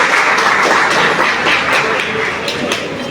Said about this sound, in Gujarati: આખી ટીમ માટે અને આપણા મહેમાનો માટે જોરથી તાળીઓ વગાડી રહ્યા છે